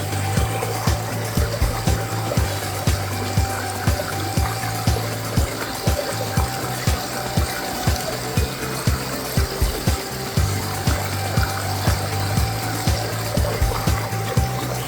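River water flows steadily over a self-cleaning water intake box in a stream, a continuous close rushing and splashing with irregular small gurgles and drips, loud and unbroken throughout with no voices.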